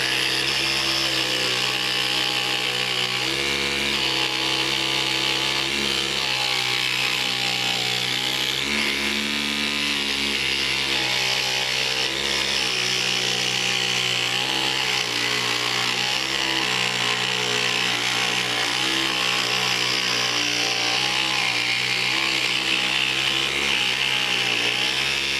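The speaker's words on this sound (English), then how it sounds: "I love the idea of making the jigsaw stationary" A jigsaw clamped upright in a vise as a stationary saw cuts through wood, buzzing loud and continuous for the whole stretch with its pitch shifting slightly as the blade works.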